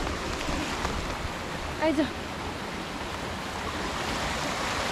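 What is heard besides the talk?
river water flowing in a village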